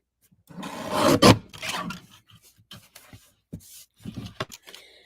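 Paper trimmer slicing cardstock for a Christmas card, a loud raspy scraping stroke followed by several lighter short scrapes and taps up close.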